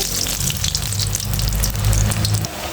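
Cauliflower chops fry in hot oil, a loud, dense sizzle close by with a low, steady bubbling underneath as the pieces are turned.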